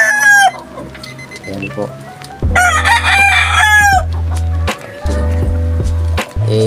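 Young roosters crowing in a backyard coop, several rough, cracking crows close by, with clucking fowl and a steady low hum throughout and a few brief spoken words.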